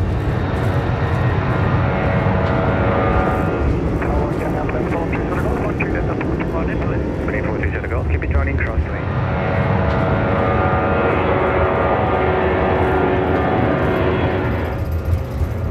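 From inside the cockpit, an Airbus A340's engines roar steadily at takeoff thrust, a loud, sustained rumble and whine heard close up while the crew talk over it.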